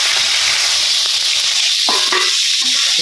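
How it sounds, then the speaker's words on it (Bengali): Small village fish such as puti are dropped into a hot kadai to fry. A constant loud sizzling hiss runs throughout, with a few brief crackles and pops near the end. "কড়াই গরম হয়ে গেছে এখন মাছটি দিয়ে আলতেছি"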